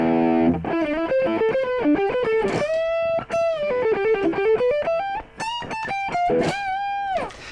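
Electric guitar lead tone from a Harley Benton guitar through a Neural Amp Modeler capture, dry and dark. Sustained distorted melodic notes and bends are played close and loud, with no talk.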